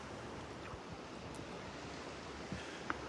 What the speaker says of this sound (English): I'm standing out in the water at the beach in North Naples at Delnor-Wiggins State Park